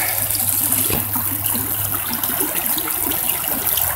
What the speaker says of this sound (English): I'm going to rinse the shovel off.